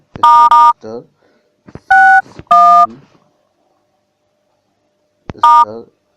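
Phone dial pad keypad tones as a code is typed, four loud close beeps in a short burst, a pause, then one more, each followed by brief speech.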